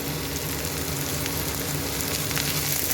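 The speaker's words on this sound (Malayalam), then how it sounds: "ഇത് ഇട്ട് നല്ലതുപോലെ ഒന്ന് മൂപ്പിച്ചെടുക്കണം" Shallots, onion and curry leaves fry in hot oil in a pan for beef curry, giving a dense, continuous sizzle with crackling pops. The sound is close and steady throughout.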